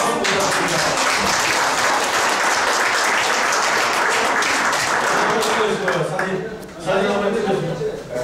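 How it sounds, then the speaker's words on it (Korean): Sustained applause from a large lecture audience, steady and dense for several seconds before thinning out, with a voice speaking over it. "여러분 큰 박수 부탁드립니다."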